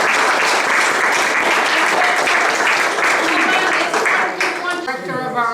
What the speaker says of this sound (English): a round of applause for these